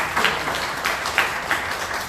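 A meetup audience gives a short round of applause, a steady mid-level wash of clapping hands with a few louder individual claps standing out.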